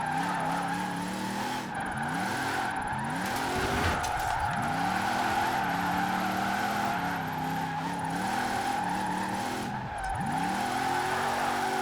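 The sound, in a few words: trophy truck drifting in video game Forza Horizon 4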